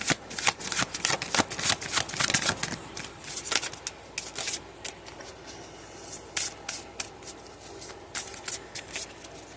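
A deck of tarot cards is shuffled close up in a steady run of quick, crisp riffles and slides for several seconds, with no talking.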